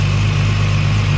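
Steady, smooth idle of a Toyota Supra engine fitted with 274 cams on stock motor mounts, a continuous low hum held loud and close with no variation, no voices.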